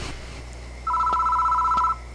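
A telephone in the horror game Death Mark rings with one sustained electronic double-tone trill lasting about a second, clear over a low background hum.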